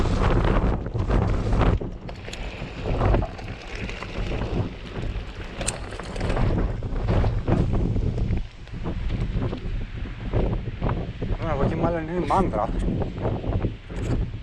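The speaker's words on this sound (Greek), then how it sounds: "Φυσάει πολύ εδώ, πιάνει γιατί είμαστε ψηλά" Strong wind gusting over a high hilltop in the Poikilo area of Greece, a steady rumbling roar buffeting the microphone throughout while someone talks over it.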